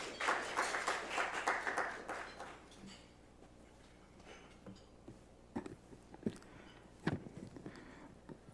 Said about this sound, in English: Let's give him a clap as he comes.